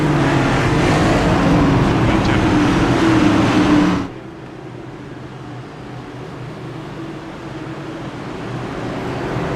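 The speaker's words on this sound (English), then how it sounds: "Car's still too loud." A racing car engine in an ENSCAR Cup Series sim-racing game gives a loud, steady droning roar, then abruptly drops to a much quieter background hum partway through.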